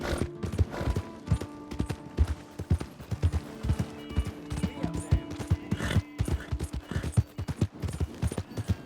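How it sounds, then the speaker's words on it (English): Rapid clip-clopping of horse hooves at a brisk pace, close and steady, with a short whinny in the middle and creaks in the background, from the video game Red Dead Redemption 2. "Hey! My horse!"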